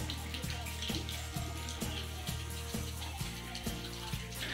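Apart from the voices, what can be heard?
heavy rain falling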